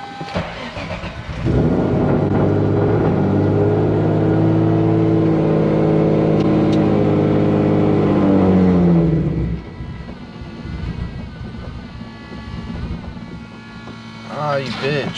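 Turbocharged Nissan Z car accelerating hard, a loud, sustained engine roar climbing steadily for about eight seconds before backing off to a lower, rougher drone.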